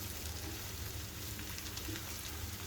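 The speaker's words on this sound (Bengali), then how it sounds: "খুব ভালোভাবে একটু তেলে ভেজে নিতে হবে।" Spice masala fries in hot oil, producing a steady, close sizzle with dense crackling and popping that stays even throughout, with no voices.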